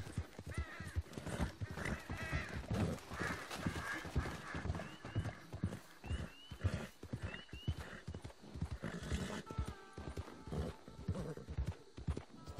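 Horse hooves clip-clopping steadily with repeated whinnies and snorts from a horse being broken in Red Dead Redemption 2, the hoofbeats uneven and close, occasional brief voices underneath.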